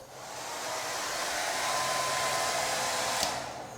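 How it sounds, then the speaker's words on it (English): A standard hair dryer runs steadily after being switched on, with a loud, even blowing whir and no other sounds. "if I were to switch this hair dryer on"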